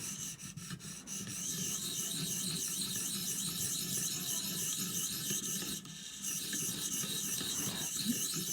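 An Ontario Rat 1 knife is drawn across an oiled 600 grit ViperSharp stone in close, continuous rasping strokes, with one short break near the end.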